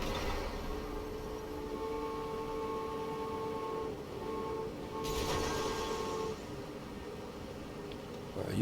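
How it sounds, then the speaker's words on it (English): A train rolls along in the Transport Fever 2 video game, a steady rumble with ringing tonal hum and a brief burst of brighter clatter midway, continuous under game ambience. "I need to get this train out of the way"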